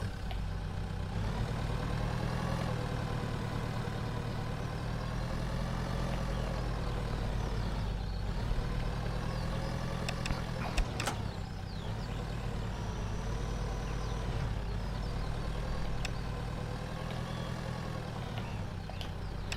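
A tractor engine in the farming simulator Pure Farming 2018 idles and hums steadily at moderate loudness, with no speech over it.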